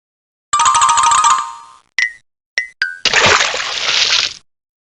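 Water from the 1997 PC game Reader Rabbit's Reading Development Library is poured onto a garden in a loud, close splashing gush, set off by a chiming jingle and a few bright dings.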